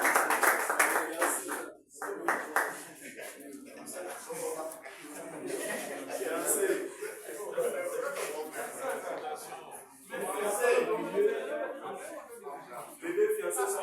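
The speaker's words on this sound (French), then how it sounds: "On applaudit encore, on applaudit encouragement." An audience at a university degree ceremony claps in scattered, uneven bursts that rise and fall, mixed with chuckles, shuffling and people talking throughout.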